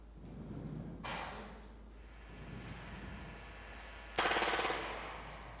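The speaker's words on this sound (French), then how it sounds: "pour illustrer ce que c'est qu'une rafale" An automatic pistol fires two short, rapid bursts a few seconds apart, sharp but fairly distant against a quiet background.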